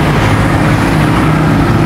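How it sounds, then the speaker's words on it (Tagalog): A jeepney passes on a highway, a loud, close, steady engine rumble with road noise lasting the whole moment. "Highway na po ito. Ayan. Ayan po, may jeep pa oh."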